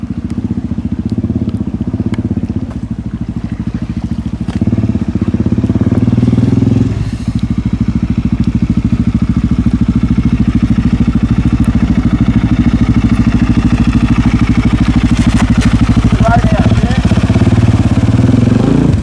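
Motorcycle engine on the Old Coach Road in Cape York, revving steadily as the bike climbs a rocky step, loud and continuous for the whole stretch with clattering over stones.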